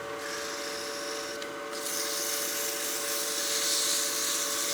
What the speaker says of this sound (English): I'm going to grab my 400 grit sandpaper. Just lightly sand the end of this here.